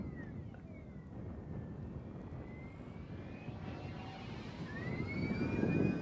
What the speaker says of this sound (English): The air sound off the prop and the wings, it's really good sounding plane.